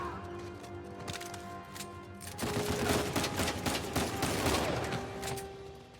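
Gunfire crackles in Uncharted 4 as rapid bursts and scattered bullet impacts, sparse at first and then growing into a dense, loud fusillade of overlapping shots.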